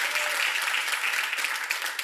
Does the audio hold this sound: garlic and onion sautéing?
no